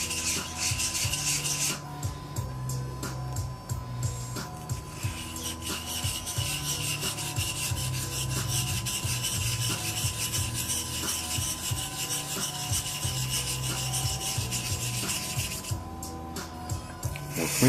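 Steady back-and-forth rubbing of a Thiers Issard 5/8 round-point straight razor honed on a stone, continuous rhythmic rasping strokes, close and even, with faint tonal background hum.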